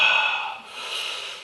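A voice imitates a loud snorting breath as heard in a meditation hall: one long, harsh, hissing inhale-like rush that fades then swells again, close and alone without other talk.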